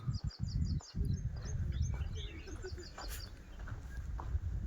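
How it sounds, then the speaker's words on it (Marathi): Birds chirp in a scattered string of short, high calls over a steady low rumble at Dabhol on the Maharashtra coast, fairly faint and continuous throughout. "पक्ष्यांचा किलबिलाट असा आवाज"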